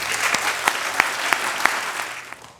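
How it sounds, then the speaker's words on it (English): Crowd at an entrepreneurship and technology symposium in Cincinnati giving speakers a big round of applause, a dense, lively clapping with a few sharp individual claps standing out, gradually thinning toward the end. "And I think we can all give them another big round of applause"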